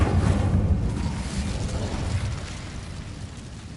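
A fiery burst for an Incendio spell cast by a wizard: a loud, close whooshing roar that erupts at once and slowly tapers over a few seconds, with no voices.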